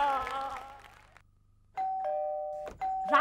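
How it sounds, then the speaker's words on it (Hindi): A two-tone doorbell chime rings twice, clear and fairly loud, following a stretch of speech and a brief quiet gap. "इतनी देर से डोरबेल बज रही है"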